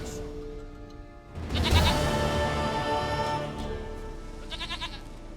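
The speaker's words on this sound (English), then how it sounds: "Goat of mine, dearest, sweetest goat." A goat in The Witcher 3 lets out a loud, wavering bleat midway through, close by, over a steady game music background.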